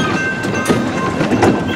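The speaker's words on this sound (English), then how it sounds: "Hope everybody enjoyed the train ride." Zoo train ride rolls along its rails at Riverbanks Zoo, a loud, close, steady rumble with rattling and clacking from the cars, running continuously with no talk.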